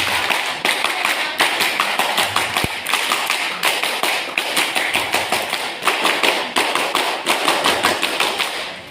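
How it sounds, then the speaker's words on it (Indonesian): Scouts at a KMD scout leaders' course in Jombang doing three rounds of tepuk pramuka, a rhythmic group clap: many hands striking in loud, crisp, patterned bursts that repeat steadily, with no talk. "3 kali tepuk pramuka."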